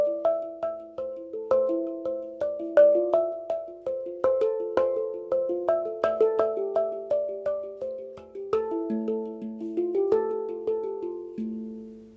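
A hang drum played as a melody, a steady run of ringing, bell-like struck notes with soft attacks and sustained tones, each fading before the next, close and moderately loud with no talking.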